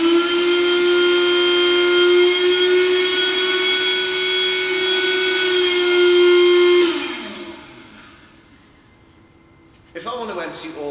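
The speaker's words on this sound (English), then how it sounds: "switch the vacuum pump on" A vacuum pump emptying a Douglas bag drones loudly with a strong tonal whine for about seven seconds, then shuts off and winds down, followed by a brief clatter.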